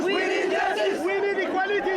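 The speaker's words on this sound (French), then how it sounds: "La foule du festival traditionnel Oromo devient une masse révolutionnaire" A large Oromo crowd at a traditional end-of-rainy-season festival in Ethiopia shouts together in protest. The dense, loud, continuous chanting and yelling keeps up throughout with rhythmic surges.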